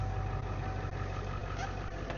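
A 7.3 diesel truck engine idles after a cold start in icy conditions, a loud, steady low rumble with constant mechanical clatter throughout.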